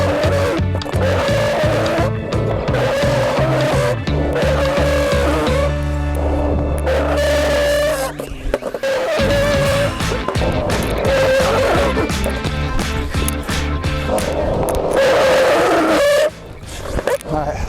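A skateboard on OJ Elite urethane wheels skids through repeated power slides in a flatspot test, producing loud, continuous rolling and scraping grind with short breaks between slides, under steady tonal background sound and possible voices.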